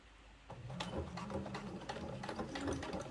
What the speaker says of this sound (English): So start sewing. I'll do a back stitch,